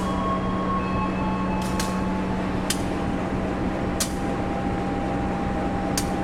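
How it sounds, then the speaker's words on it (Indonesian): The Logawa passenger train sits at an Indonesian station, giving a steady low mechanical drone with a sustained hum and a few faint clicks, with no talking. "Kereta api Logawa sebentar lagi mau diberangkatkan."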